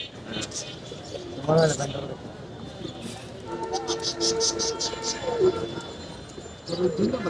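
Pigeons cooing in a crowded pigeon market at Kaptan Bazar, soft repeated coos rising through the middle and end amid market chatter, with people bargaining nearby.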